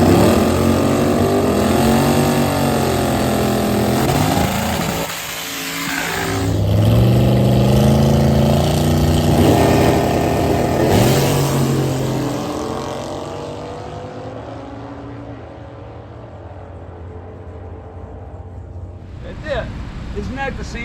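A 7.3L Godzilla engine in a naturally aspirated drag-racing Ford Thunderbird at Milan Dragway rumbles loudly and close, rising and falling through revs before fading, with people talking over it.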